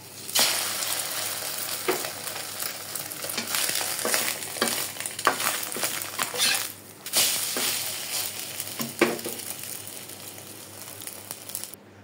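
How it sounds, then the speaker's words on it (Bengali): Tiffin food frying in a pan, a soft steady sizzle with scraping and stirring clicks from a utensil running throughout, fairly quiet and close, with no talking. "দেখুন, আমার টিফিন ভাজা শেষ।"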